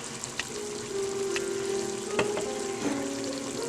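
Onion and ginger fry with chili spice in a pan, a continuous close sizzle broken by a few clicks and scrapes, with a faint hum running underneath.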